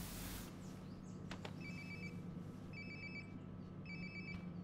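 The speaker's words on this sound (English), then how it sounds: "Sounds like my phone is definitely nearby. It sounds like it's in the bathroom, actually." A phone in the video game Life Is Strange: Before the Storm rings in three evenly spaced trilling bursts, faint and slightly distant against a steady background hum.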